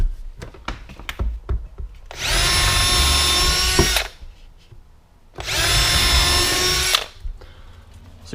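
A power drill drives screws into a 12-inch subwoofer mount in a workshop, sounding as two loud, steady whirring bursts of about two seconds each, separated by a pause and surrounded by small handling knocks.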